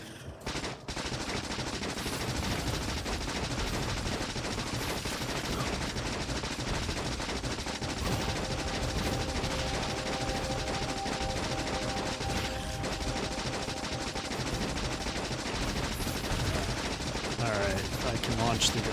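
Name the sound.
gunfire and grenades against enemies in Factorio video game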